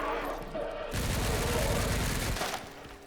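Loud, dense gunfire bursts in Resident Evil Requiem, with a pump-action shotgun fired in a hectic fight against soldiers, the blasts merging with heavy game noise for about two seconds.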